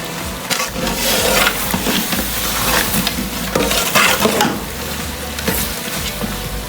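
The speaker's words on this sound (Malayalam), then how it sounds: "കിസ്മിസും അണ്ടിപ്പരിപ്പും സവാളയും എല്ലാം കൂടി നമുക്ക് ഇതിൻ്റെ അകത്തിലേക്ക് ഇട്ട് ഒന്ന് മിക്സ് ചെയ്യാം." Raisins, cashews and fried onions stirred into Kerala-style beef biryani in a pan, producing a continuous close sizzle with repeated scraping strokes of a spoon across the pan.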